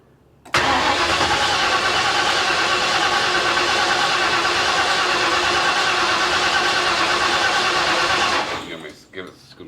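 Ford Maverick engine cranking and catching, then running loud and rough at a steady high idle for about eight seconds before cutting out, with voices heard over it.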